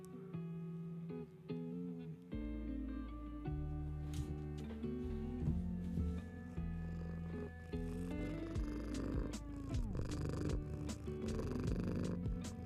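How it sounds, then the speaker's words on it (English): A cat purrs close up in a steady, continuous low rumble that carries on throughout without pause. "Purring."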